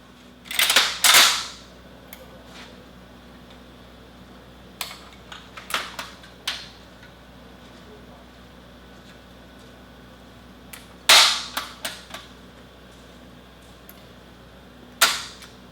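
An AGS-17 automatic grenade launcher fires during a Canadian Forces drill: sharp, loud outdoor reports come in short bursts, a pair at the start, scattered single shots in the middle and another cluster near the end, each followed by a fading echo.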